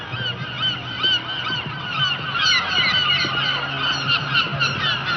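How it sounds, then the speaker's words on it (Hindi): A flock of birds passes overhead, filling the air with a constant chorus of goose-like honks that rise and overlap without a break. "पंछियों का झुंड कहीं जा रहा है"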